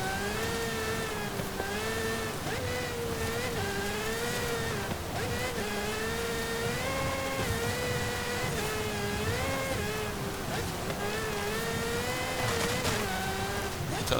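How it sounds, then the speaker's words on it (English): The 2022 Aston Martin Valkyrie AMR Pro hypercar engine in the racing game Forza Horizon roars steadily and loudly throughout, its pitch wavering slightly up and down as if holding speed, with no voices. "it's a very, very loud car, but a very good sounding one regardless."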